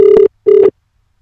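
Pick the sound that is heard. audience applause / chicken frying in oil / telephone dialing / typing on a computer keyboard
telephone dialing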